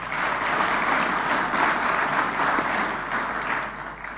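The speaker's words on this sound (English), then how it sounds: "Give yourselves a round of applause." Audience applause at an opening ceremony in Ghana, a dense, continuous clapping from a large crowd holding steady throughout with a slight dip toward the close.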